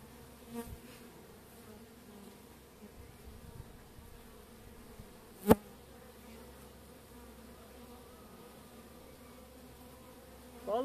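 Honeybees crawling over a hive frame during an inspection for a supersedure queen give off a steady, faint, close buzz, with one sharp knock midway and a soft bump at the end.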